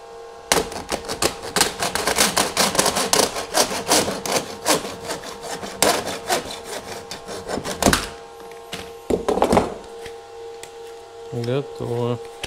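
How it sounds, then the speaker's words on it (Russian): A hand saw cuts through a wooden baseboard to fit, with quick rhythmic rasping strokes up close for several seconds, then a few separate scrapes and a short pause. "Допилим здесь, чтобы по плоскости она пилила."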